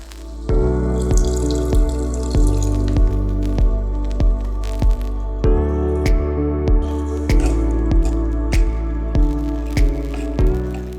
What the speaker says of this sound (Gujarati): થોડું પાણી એડ કરીશું.